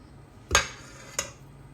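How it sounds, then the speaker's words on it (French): Pistachio cream and cookie are mixed in a bowl, giving two quick clinks of a utensil against the dish about half a second apart over a quiet background. "Et je vais venir rajouter du cookie par-dessus et je vais mélanger ça."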